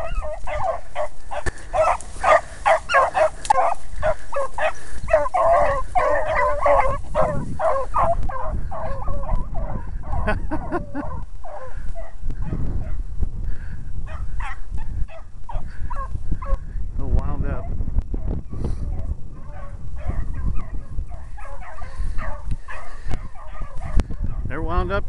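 A pack of beagle hounds bays and yelps continuously while running a rabbit outdoors in April, the chorus steady and fairly loud throughout, with a voice speaking intermittently over the baying.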